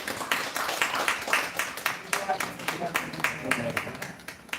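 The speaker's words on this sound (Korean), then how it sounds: "네, 박수 해주세요." An audience at a church seminar claps together for several seconds, a steady patter of hand claps mixed with murmuring voices, fading slightly at the end.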